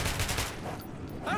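Gunfire from the video game Metro 2033 Redux, with a dense, continuous rattle of overlapping shots that fills the short moment at a steady loud level.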